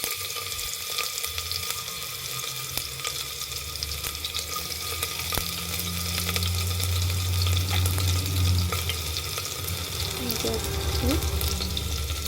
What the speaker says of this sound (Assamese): মোৰ তেল গৰম হৈ গ'ল, ইয়াত মই দিলোঁ অকণমান গোটা জিৰা, ফুটিছে চাওক ধুনীয়াকৈ।